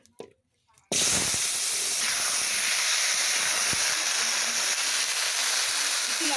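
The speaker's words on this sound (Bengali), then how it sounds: "এবার আলুগুলোকে ভেজে নেব" Potatoes dropped into hot oil in a wok erupt into a loud, sudden sizzle that settles into a steady, dense frying hiss, heard up close after a brief quiet moment.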